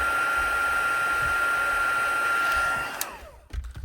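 A heat tool blows hot air steadily on a cake topper, a loud continuous whooshing hum with a high whine that cuts off near the end, leaving a brief clatter.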